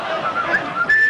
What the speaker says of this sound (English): Camp whistle.